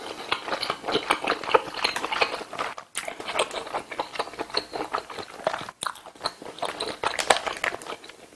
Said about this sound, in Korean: 맛있게 잘 먹겠습니다.